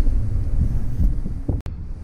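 Strong wind roaring against the microphone in a steady low rumble, briefly cutting out near the end.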